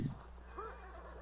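A horse in the video game Ghost of Tsushima gives a short, faint whinny over a low steady hum, with a brief thud at the start.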